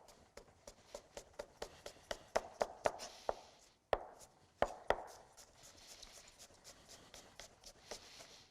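A knife cuts through apples on a cutting board in a slow series of sharp chopping taps, some louder than others, with soft handling noise between strokes and a brief pause midway.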